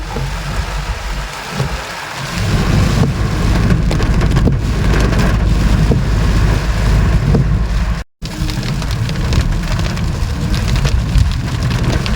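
Heavy rain with strong wind roars steadily and loudly throughout, a dense continuous downpour with gusty rushing and no speech.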